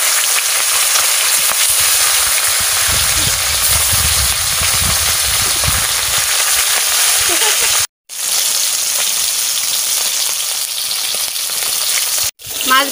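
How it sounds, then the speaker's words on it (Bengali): Fish fries in hot sunflower oil, a loud, steady, close sizzle and crackle that hisses on without a break, with two brief cut-outs near the end. "মাছ ভাজা বসাই দিচ্ছি।"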